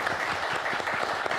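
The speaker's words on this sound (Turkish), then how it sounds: "bir alkış gelsin mi yine?" Audience applause at a Turkish local talk programme, a short, steady patter of many hands clapping at moderate volume, with no clear speech over it.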